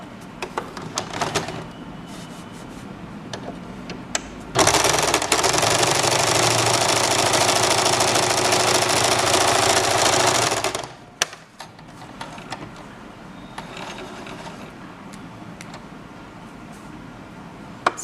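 Sewing machine stitching a simple blouse, light clicks and handling noises giving way to a loud, steady run of stitching for about six seconds before stopping, close up.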